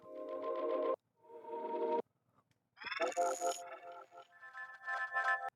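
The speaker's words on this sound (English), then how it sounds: "It just makes really, really fun, crystally effects like this." Glassy, shimmering tonal bursts from a Crystallizer effect plugin that sparkle and pitch-shift, with bright metallic chimes stacking into a crystalline, effected texture. No voices.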